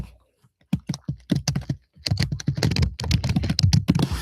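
Typing on a computer keyboard at a desk, with rapid irregular clusters of key clicks close by and a short pause partway through before the typing resumes.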